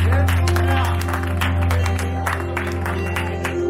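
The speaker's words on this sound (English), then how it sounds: "let's clap, let's have a big round of applause for Mr." Audience applause for Mr. Soumya at a 4Life meeting in Kolkata, dense steady clapping from a crowd over loud sustained music throughout.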